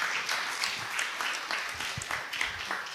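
A crowd applauds continuously, dense clapping filling the whole moment at a steady level.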